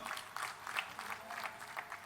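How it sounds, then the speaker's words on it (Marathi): Applause from an audience welcoming a guest at an agricultural expo event, a steady patter of many hands clapping at moderate distance, fairly faint and continuous throughout. "आपण सर्वांनी त्यांचं जोरात टाळ्या वाजवून स्वागत केलं पाहिजे"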